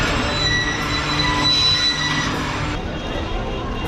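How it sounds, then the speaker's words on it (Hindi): The Karachi Express pulls out of Karachi City station in heavy rain, its wheels squealing loudly against the rails over a dense, continuous rumble close by, with high whining tones above. "वैसे ट्रेन चलने के लिए बिल्कुल तैयार है, फर्स्ट डिपार्टिंग में से हो गया और ट्रेन निकल रही है"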